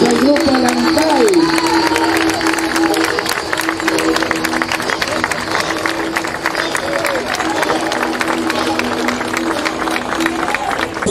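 A parish audience applauds a music group with a dense, continuous wash of clapping and crowd noise, loud and close throughout, while a voice speaks over the start.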